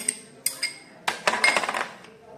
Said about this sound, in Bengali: নারকেল রোল করার জন্য যে পোরটা করব সেটা আমি মাখিয়ে নিচ্ছি পুরো নারকেলটা দিয়ে দিলাম